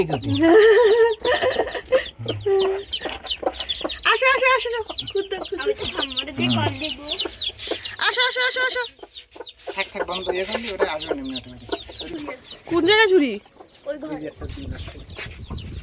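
Hens and their chicks at home cluck and peep close by, with repeated sharp calls and squawks in quick bursts alongside high chick chirps, while people talk in between.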